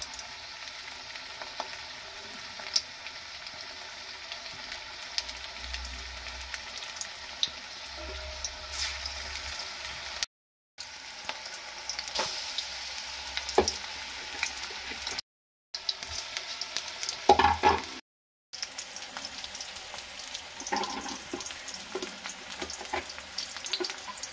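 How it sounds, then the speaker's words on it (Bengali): Onion fritters (piyaji) fry in hot oil in a kadai over a gas flame set between high and medium, giving a steady close sizzle and crackle with a few brief breaks. "গ্যাসের ফ্লেমটা হাই টু মিডিয়ামে রেখে কিন্তু পেঁয়াজিগুলো ভেজে নেব"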